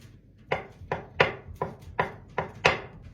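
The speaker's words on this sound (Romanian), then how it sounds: "Tăiem 200 de grame de cașcaval. Tot așa în lung." A knife cuts lengthwise through a 200-gram block of cheese on a board, giving seven evenly spaced, crisp chopping knocks at close range with no talking.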